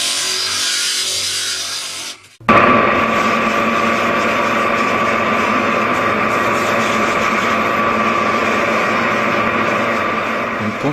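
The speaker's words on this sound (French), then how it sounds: "Les sabots sont ensuite poncés à l'intérieur pour éliminer toute aspérité." Wooden clogs being sanded on the inside with a power sander: after a short lower-level stretch with an abrupt cut, a loud, steady machine whine and abrasive rasp runs continuously, close by.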